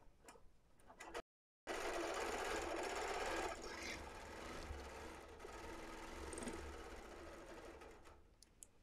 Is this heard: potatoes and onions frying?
no